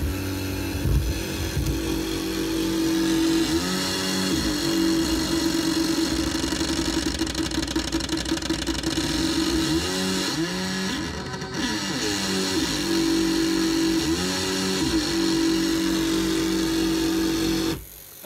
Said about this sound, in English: So this is car indicator relays, you know, as oscillators.